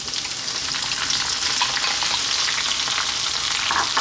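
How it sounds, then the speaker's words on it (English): Pieces of eggplant drop into hot oil and sizzle loudly, a dense, bright, continuous frying hiss close up, with slight surges as the oil reacts. "I'm going to drop in my eggplant first"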